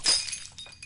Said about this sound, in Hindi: अरे गिलास फूट गया।